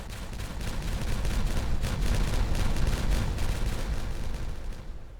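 TNT detonating in the building game Timberborn, producing a dense, loud roll of crackling blasts that swells and holds for several seconds before cutting off sharply.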